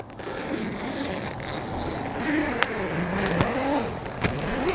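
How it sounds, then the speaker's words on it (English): A zipper is drawn open along the vestibule of a $100 KEA 2 tent, giving a few short scraping pulls over a steady outdoor background hiss. "now you can open up your vestibule, unzip it, these cool little zips"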